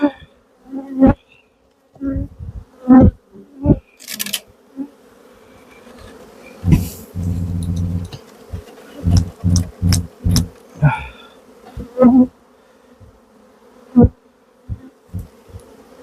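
Honeybees buzz around a hive opened for inspection: loud, intermittent bursts of buzzing pass close by, some brief and some sustained, with quieter gaps between them and no talking.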